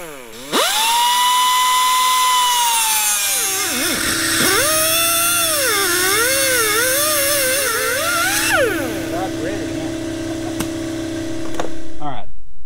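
A small power tool whines at high speed while cutting a slit through a metal nut clamped in a vise, pitch wavering and dipping as the blade bites, continuous and loud, then winding down near the end.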